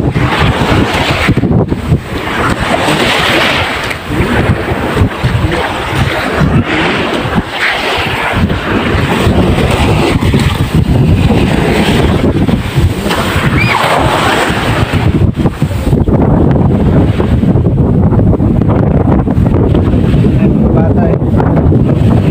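Strong wind buffets the microphone by the sea, with waves rumbling underneath and faint talk now and then, loud and continuous throughout.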